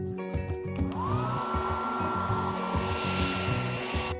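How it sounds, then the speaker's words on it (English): An ordinary hair dryer blows dust off Lego parts, a steady loud whirring roar with a rising whine as it spins up, rhythmic low fluttering running underneath throughout. "Use the most ordinary hair dryer."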